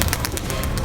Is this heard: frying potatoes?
no